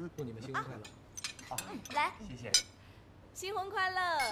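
Glasses clink in a toast at a wedding meal: a couple of short, bright clinks mixed in among lively, overlapping voices.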